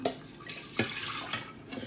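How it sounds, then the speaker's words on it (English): Water runs into a baking soda mixture in a bowl with a soft, steady splashing and a few louder gurgles, close by and fairly quiet. "And then we're going to put in 2 cups of water."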